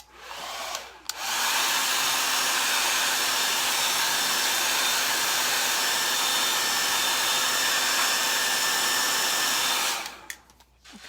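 A hair dryer blows steadily at close range for about nine seconds, drying a plaid pumpkin spice craft garland piece, switching on abruptly and cutting off near the end with no talk over it.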